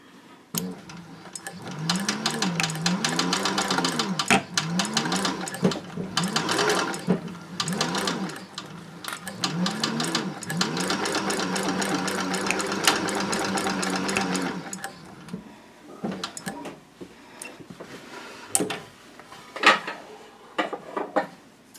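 A sewing machine stitches a straight seam across the bottom of a denim tote bag made from upcycled jeans, set to a long stitch with a half-inch allowance. Close, rapid bursts of stitching run for about fifteen seconds, then give way to quieter clicks and handling.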